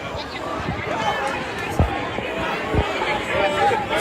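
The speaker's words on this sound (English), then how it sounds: "You can hear more chants coming from the front." Outdoor crowd noise at a street protest in Columbus near High and Broad, with a babble of voices and distant chants from the front, punctuated by a few thuds and nearby chatter.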